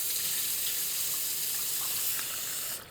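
Tap water runs steadily over canned chickpeas being rinsed, a continuous close hissing gush into a sink that eases off just before the end, with no talking.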